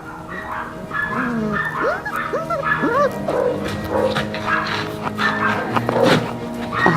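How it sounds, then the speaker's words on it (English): A dog gives a series of high, wavering whines and whimpers with a few short yips, close by, over a steady background hum. "another dog, a really sweet dog named Daniel"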